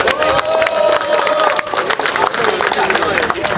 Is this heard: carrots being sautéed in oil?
no